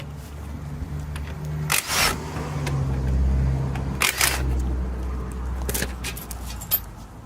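Tools work the brake caliper bolts off a Chevy Cobalt's front brakes, with sharp metallic clicks and clanks at intervals over a low background hum, close and moderately loud.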